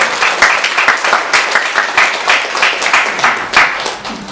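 A church congregation at a Sunday worship service applauds a birthday with brisk, continuous clapping from many hands in a hall, steady for several seconds with a slightly pulsing rhythm.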